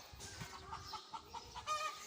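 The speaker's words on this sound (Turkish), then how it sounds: "Şu tavuklarımız burada" Chickens in a backyard coop cluck softly in short, irregular bursts, faint and close against a quiet background.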